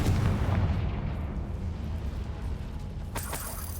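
A Confringo blasting spell goes off in Hogwarts Legacy on PS5 as a deep, rumbling explosion that swells and fades, with a brighter crackling burst near the end.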